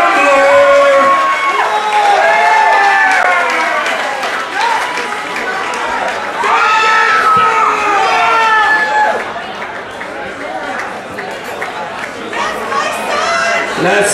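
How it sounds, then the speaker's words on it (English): A loud arena crowd roars and cheers for the new heavyweight champion at an American Elite Cagefighting event, sustained shouting and whistles filling the space, with a voice speaking over the din. "make some noise for David Ambler!"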